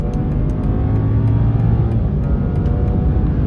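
A BMW M240i accelerates on a track, its engine a loud, steady droning roar heard from inside the car without a break.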